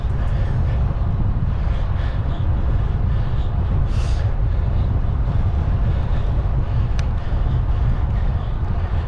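Wind roaring against the microphone while cycling with a rim brake road bike, a loud constant low rumble and buffeting throughout, with faint ticks over it.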